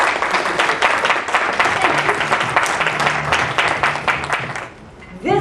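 A conference audience at a leadership speaking event gives a warm round of applause for a speaker. The dense, loud clapping holds steady for about five seconds, then fades as a voice begins.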